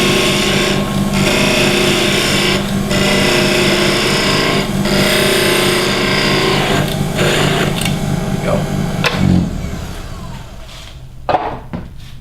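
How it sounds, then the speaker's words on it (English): A wooden kendama spins on a lathe while being sanded, a loud continuous whirring rasp with rhythmic dips, easing off near the end into scattered handling clatter. "just a little bit of sanding with it and we'll be fine."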